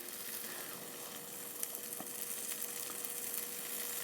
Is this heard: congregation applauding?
no